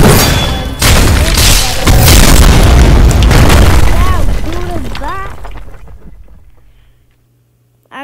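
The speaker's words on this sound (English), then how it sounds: "And now we're gonna use blackout clutch." Blackout clutch attack in the Roblox game Heroes Battlegrounds: a loud, dense booming burst with layered impacts and whooshing effects that gradually fade out into near silence.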